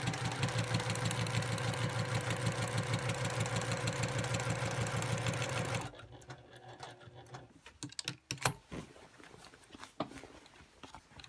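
Sewing machine quilting with a walking foot, running in a steady, fast rhythmic chatter for about six seconds before stopping, followed by soft fabric handling and scattered clicks.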